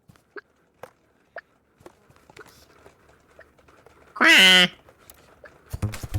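A single loud, nasal duck quack in the video game TOEM stands out after scattered soft taps and clicks, followed by a burst of busier noise.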